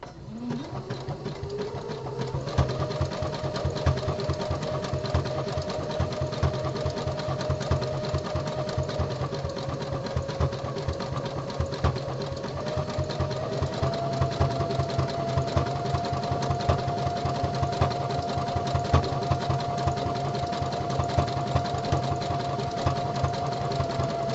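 Home sewing machine stitching a boxer brief body panel, a close steady whirring hum with fast needle chatter running continuously and rising slightly in speed.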